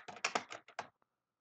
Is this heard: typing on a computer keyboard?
yes